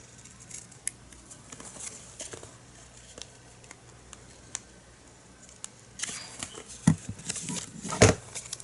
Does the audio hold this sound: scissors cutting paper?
yes